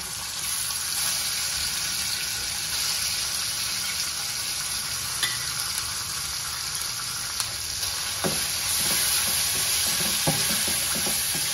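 Black masala paste for a Maharashtrian mushroom curry frying on a low flame, a steady close sizzle with occasional soft scrapes and taps of stirring, no voices over it.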